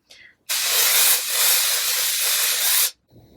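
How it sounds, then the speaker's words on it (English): Flower Beauty Jet Set powder spray hisses in a single continuous aerosol burst of about two and a half seconds, close and fairly loud, with brief quiet moments on either side. "I'm just gonna spray it all over my face"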